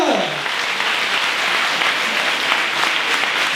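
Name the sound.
audience applause at conference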